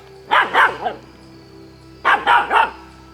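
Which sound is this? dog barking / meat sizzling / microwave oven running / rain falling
dog barking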